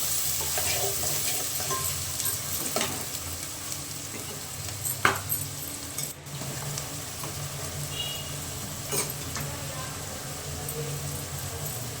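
Chopped onions fry in a pan for chicken pulao with a steady, moderate sizzle, occasional stirring scrapes and a sharp clink, and faint background voices.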